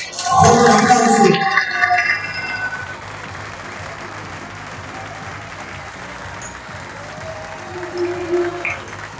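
An outdoor crowd breaks into a loud burst of applause at a kayak surf world championship closing ceremony in Argentina, cheering an award winner before the clapping quickly fades into low background murmur.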